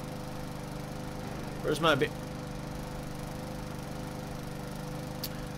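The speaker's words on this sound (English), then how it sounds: "Just cutting the grass on a good old Saturday." A game lawn mower cuts grass with a steady, droning motor hum running throughout, while a voice speaks briefly over it.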